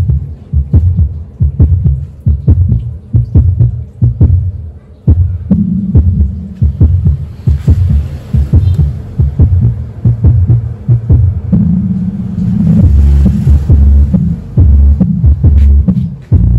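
Deep bass tones pumped through a Joson Moon Pro Max 4-channel Class H power amplifier, a loud throbbing low-end beat pulsing in steady rhythm with little else over it.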